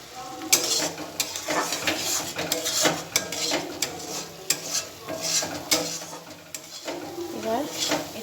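Bengali aloo dum masala of cumin, turmeric, Kashmiri chili powder and salt stir-fried in oil, the spoon scraping and clacking against the pan in a steady rhythm over a constant sizzle, with a hum of kitchen background.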